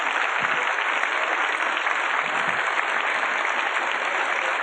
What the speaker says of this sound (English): shouts of bravo, Mr. Adler, coming from this crowd here at the Golden Gate Park